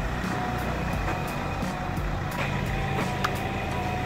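A diesel road grader drives nearby on wet asphalt, producing a constant low engine rumble with a repeated high beeping tone over it.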